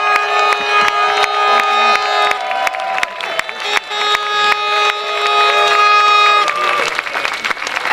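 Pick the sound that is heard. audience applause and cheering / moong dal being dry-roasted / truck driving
audience applause and cheering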